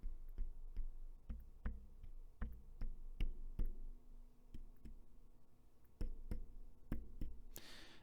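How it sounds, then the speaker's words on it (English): Steady light tapping on the body of a Sennheiser MD21-U microphone, many small sharp ticks in an uneven rhythm with a faint ringing tone, close and clear, ending with a brief rustle. "Light tapping on the body of the microphone."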